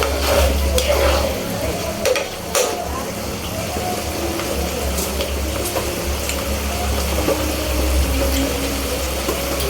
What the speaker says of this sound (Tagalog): Yan, kumukulo na siya.